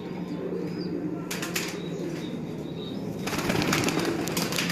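Pigeons in Lahore at a 2018 pigeon-flying event give soft cooing, broken by two loud bursts of wing flapping, the second one longer, all near and without talk.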